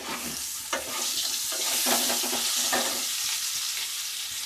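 Sliced potatoes, onion and a medium tomato fry together in a pan, giving a continuous close sizzle with intermittent scraping from stirring.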